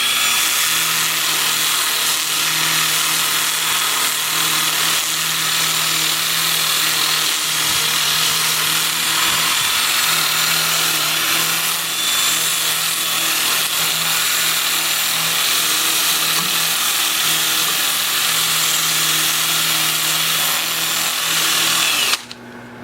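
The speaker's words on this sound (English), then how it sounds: "I'll switch to my 2-inch sanding disc and we'll sand all of the turned parts" A 2-inch sanding disc runs against turned wood parts on a lathe, giving a steady, loud whirring drone with a broad hiss that holds unbroken for about twenty seconds before cutting off abruptly.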